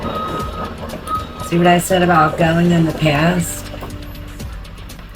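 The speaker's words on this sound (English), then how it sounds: "We have the trash truck just showed up, so excuse the noise." A garbage truck repeats steady reversing beeps in the background at the start and end, with a low engine rumble, while someone talks over it through the middle.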